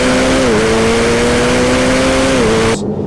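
A Ferrari F8 Tributo screams at high RPM, its steady engine tone holding between brief dips at each fast gear change. It is loud and close and stays so until it cuts off near the end.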